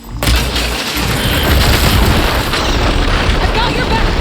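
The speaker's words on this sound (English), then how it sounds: "See those glowing crystals? Takes one hit to detonate." A glowing crystal detonates in Horizon Forbidden West's Burning Shores DLC, a loud booming blast that swells into a long, dense roar of debris and rumble.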